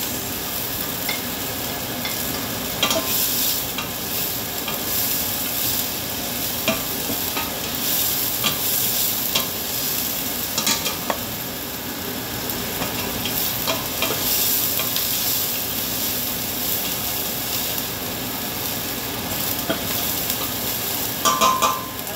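Garlic and onion fry for arroz caldo, a continuous close sizzle in oil with frequent spatula scrapes and stirring clatter throughout.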